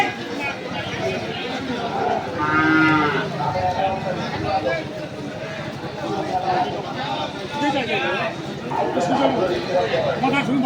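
Crossbred bulls and other cattle low at Setabganj livestock market, with one clear moo rising briefly out of constant crowd chatter and nearby voices talking throughout.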